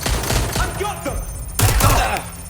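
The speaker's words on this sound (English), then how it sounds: "Taking fire!" Gunfire in Watch Dogs Legion, with bursts of shots mixed with game voices talking, loud and dense, with a sharper cluster of shots near the end.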